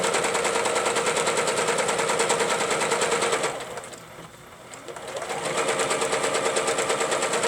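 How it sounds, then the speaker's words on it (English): A sewing machine rattles out rapid, even stitches while free-motion quilting a boxy spiral knot design, running loud and close, pausing briefly midway, then resuming at the same fast pace. "You can always stitch over your lines of quilting."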